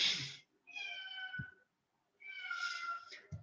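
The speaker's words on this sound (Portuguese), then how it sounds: "parece que o gato adivinha que ele fica desesperado aqui para entrar" A cat meows insistently, wanting to come inside: two drawn-out, close, fairly loud cries separated by a short silence, with a faint soft knock after each.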